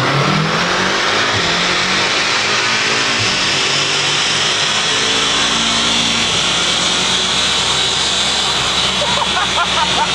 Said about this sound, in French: on va faire un petit démax sur le banc histoire de voir combien ça sort